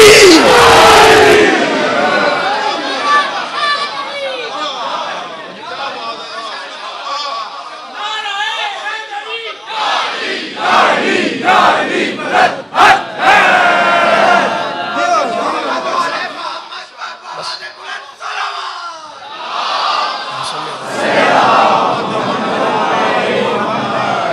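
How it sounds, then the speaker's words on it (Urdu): A large religious gathering chanting the Nara-e-Haidari slogan, loud rhythmic shouted calls and responses from a crowd, with bursts of collective voices and chatter over about twenty-four seconds. "دونوں ہاتھ بلند کر کے نعرے حیدری۔"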